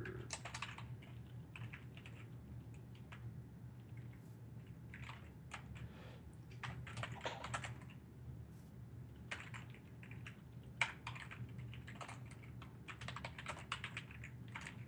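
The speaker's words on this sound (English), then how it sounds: "Sorry, you can hear me typing." Rapid bursts of clicking from a computer keyboard during an online mini-game session, close and steady over a low background hum, with short pauses between flurries of keystrokes.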